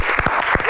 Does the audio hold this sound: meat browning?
no